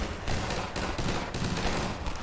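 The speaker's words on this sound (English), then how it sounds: "why did you make the gun sounds like this?" Rapid automatic gunfire from the AR2 pulse rifle in Half-Life 2, a dense, continuous stream of loud shots with no talking over it.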